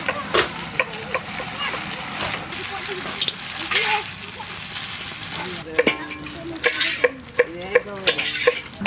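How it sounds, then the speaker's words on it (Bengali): Eggs fry and sizzle in a pan while a utensil stirs and scrapes against it, with light clinks and faint voices now and then. "ডিম ভাজা হয়ে গেছে, সুন্দর লাল লাল করে ভেজে নিছি।"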